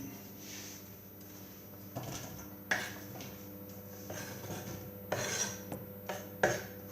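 A knife chops an onion on a cutting board for ratatouille, a handful of irregular clacks and scraping slides, fairly close and faint, over a steady kitchen hum.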